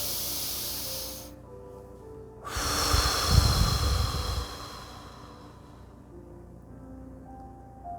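A long, slow exhale hisses out during a guided relaxation session, swelling for a couple of seconds and then fading into a quiet room, with no voice over it.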